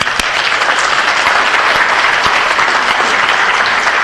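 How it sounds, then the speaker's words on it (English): Audience applause at a city council meeting, a dense, steady clapping from a full room that holds evenly for about four seconds, loud and close, with a few sharper individual claps standing out. "let's give another round of applause"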